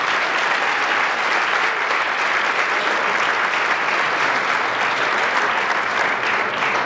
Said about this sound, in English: Let's give a huge round of applause for Sue Campbell.